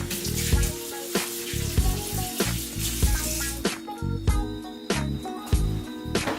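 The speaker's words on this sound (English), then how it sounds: "All right, so I'm gonna wash my hands off right quick." Tap water runs in a steady splashing stream while hands are rinsed beneath it, with a few clattering knocks and shifting flow, close by and without talk.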